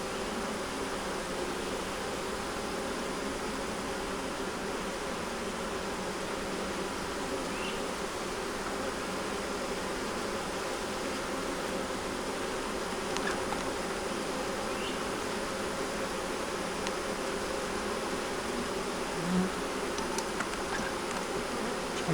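Honeybees buzz steadily in an open hive during an inspection, a continuous close hum with no pauses, unbroken and even across the whole stretch.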